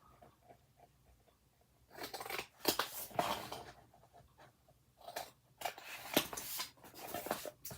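Scissors snip through cardstock being trimmed for a 6 x 6 mini album, a quiet start followed by several crisp, close cuts in bursts.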